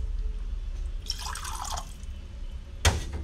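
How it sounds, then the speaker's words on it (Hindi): Drinking water poured into a glass, a short trickling pour followed by a single sharp clink or splash, faint and close with no talking. "इसमें मैं पानी डाल रहा हूँ पीने वाला"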